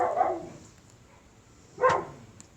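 A dog gives two short, sharp barks a little over a second apart, fairly close, with quiet background between them.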